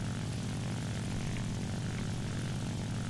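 A La-9 piston-engine fighter in the War Thunder flight game drones steadily and loudly, a continuous propeller and engine roar with no change in pace and no talking.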